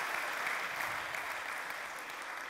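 Conference delegates at a plenary session of the U2P 2018 meetings in France applaud together, a continuous, even wash of clapping that holds steady throughout.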